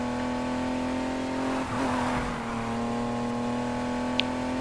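A 1971 Nissan Skyline 2000 GT-R accelerates in the racing game NFS Heat, a steady engine drone with a sustained low hum, a brief change midway and a short high blip near the end, heard alone.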